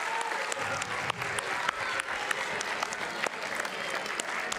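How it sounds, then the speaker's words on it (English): Audience applause at a geography bee, a steady crowd of hands clapping close and loud for several seconds with scattered sharper claps standing out and no break in the noise. "Let's give them a round of applause."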